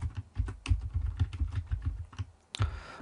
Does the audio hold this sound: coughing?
no